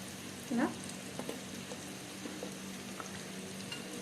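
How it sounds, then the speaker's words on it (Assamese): Garlic and onions frying in a pan while being stirred, a steady low sizzle with a few soft scrapes and knocks, one brief louder clatter near the start, no talking. "নহৰু দি আকৌ মই লৰাই দিছোঁ"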